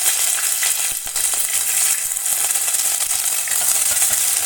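Okra sizzles in hot oil with ginger in a pan for a tomato and okra curry, a steady loud frying hiss that runs unbroken throughout with no voices.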